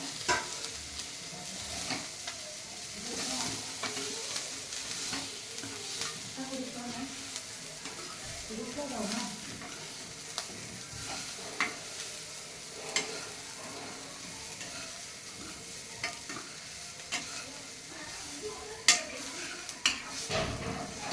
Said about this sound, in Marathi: परतून घ्यायचं आहे थोडंसं मॅगी भाजल्या जाते